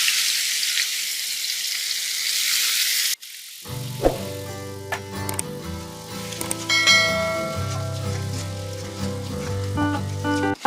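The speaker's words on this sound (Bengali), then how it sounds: "আমি এখন পেস্টটা দিয়ে দিলাম তেলে" Spice paste hits hot oil in a pan for an egg korma, bursting into a loud, steady sizzle and crackle that runs on after a short quiet moment, with no talk over it.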